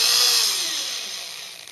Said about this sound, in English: So I'm going to drill two places.